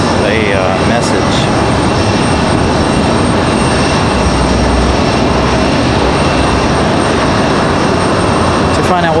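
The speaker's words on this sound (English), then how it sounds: "This A220 makes its way back here" An Airbus A220 airliner taxiing at Raleigh-Durham airport, its engines giving a steady, loud broadband roar that holds for the whole stretch with a faint voice underneath.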